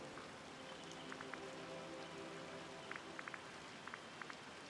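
Faint, steady rain hiss in the video game Disney Dreamlight Valley, with a few light drips and ticks scattered through, distant and soft.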